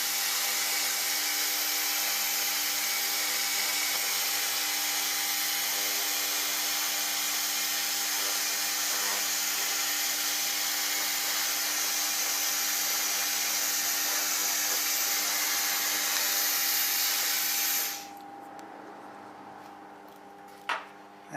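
An AccTek 1000W fiber laser cleaning machine scans a surface with a loud, steady, bright hiss that holds for about eighteen seconds and then cuts off. Faint background noise and a single brief click follow.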